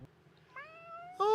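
A cat in the video game Skautfold meows once, a short, fairly quiet rising call that ends in a brighter, louder yowl.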